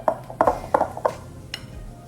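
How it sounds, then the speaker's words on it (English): Metal whisk clanking against a bowl while mixing homemade ice cream ingredients in a home kitchen, a run of quick uneven clinks and scrapes in bursts, close and moderately loud, with no talking. "So let's take that and whisk that together."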